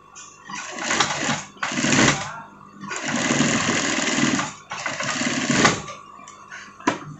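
A sewing machine runs close up as it stitches the seam of a Doraemon-style pocket onto a sweater jacket. It whirs in bursts of about one to two seconds, separated by short pauses and a few quick clicks.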